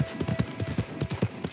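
Horse hooves clip-clop in the video game Red Dead Redemption 2, a steady, rapid rhythmic trot of dull thuds, close and moderately loud with no talking over it.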